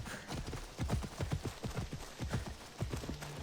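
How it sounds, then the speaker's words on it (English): Horse hooves clip-clop in Assassin's Creed Odyssey, a steady close rhythmic trot of sharp thudding steps running throughout over faint game ambience, with no talk. "I should probably have summoned my horse."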